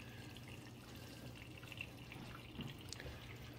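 Bunn Speed Brew coffee maker running a fresh water rinse with its heating element on, a faint trickle and drip of water into the carafe over a low steady hum, close by and quiet.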